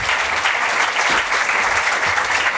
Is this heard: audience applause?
yes